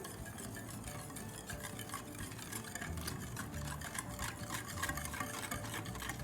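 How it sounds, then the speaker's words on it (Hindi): A whisk beats sugar into a chocolate mixture for death-by-chocolate cups. It makes a soft, continuous scraping and rapid ticking against the bowl, quiet and steady, with no talk. "अब इसको मैं विस्क से अच्छे से मिक्स कर लूँगी।"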